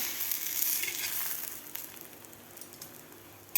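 Cucumber thalipeeth flatbread sizzles loudly in a pan, the frying hiss fading slightly before a spatula flips it with a soft scrape and thump at the end.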